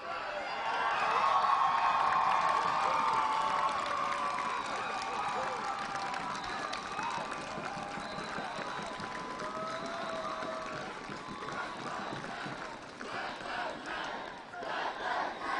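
A protest crowd near the Rhode Island State House chants Black Lives Matter, producing a sustained roar of shouting voices that is loudest early on and then eases, with someone speaking over the noise.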